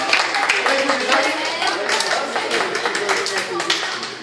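Audience applause for two assistants at a celebration, dense steady clapping throughout with voices mixed in.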